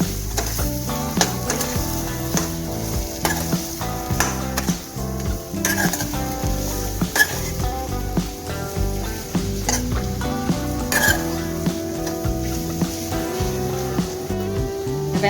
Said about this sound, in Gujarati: હવે આપણે એમાં બટેકા નાખી દઈશું આપણે ધીમે હાથે હલાવી નાખીશું